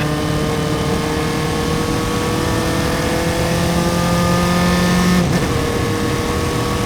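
Single-seater race cars at a Mid-Ohio SCCA IT Spectacular race drone loudly with a sustained engine roar and steady harmonic whine, one pitch shifting slightly before a sudden change near the end, with no talking.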